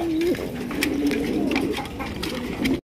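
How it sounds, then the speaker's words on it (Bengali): A pair of Chinese owl pigeons cooing close by, repeated low throaty coos in a steady run with faint background noise from a pigeon market. "চমৎকার এক জোড়া চাইনিজ আউল কবুতর"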